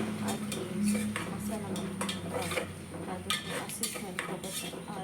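Coriander, mint and green chilli paste frying in a pan for chicken biryani, a soft sizzle under repeated clinks and scrapes of a metal spoon against the pan, close and steady, with some faint background voices.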